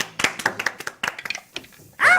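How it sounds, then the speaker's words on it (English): A few people clap their hands in a quick, uneven rhythm, a dozen or so sharp close claps over two seconds, ending in a brief loud burst of noise. "That's how we should clap."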